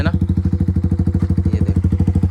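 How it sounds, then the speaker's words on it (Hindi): Yamaha R15 V4 motorcycle fitted with an Akrapovic exhaust idling right after a cold start, a loud, close, steady rapid thumping beat with no talk. "ये हो गई बाइक कोल्ड स्टार्ट"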